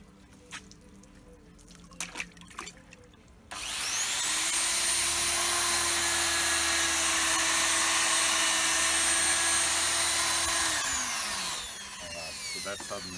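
A car polishing machine whirs up loudly and runs at a steady, high-pitched whine for several seconds, then winds down, with faint dripping from a water dip and movement before it starts.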